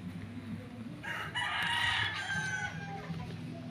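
A fighting rooster crows loudly once, a drawn-out cry over a low, murmuring background with faint clucking, on a farm property in Dolores, Quezon.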